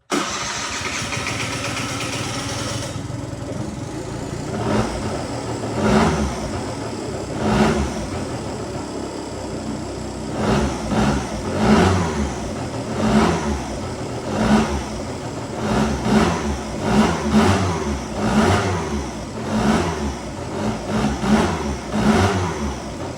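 A 2002 Aprilia SR50 Di-Tech Morini scooter engine cold-starts after a quiet lead-in, then idles and is revved in repeated throttle blips, a loud nearby buzzing two-stroke rising and falling with no talking.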